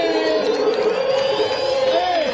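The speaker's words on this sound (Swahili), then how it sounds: "Jioni watu wakishangilia" A crowd of Kalenjin people gathered to celebrate Eliud Kipchoge cheers, with sustained, shrill, wavering voices ringing over a dense crowd roar.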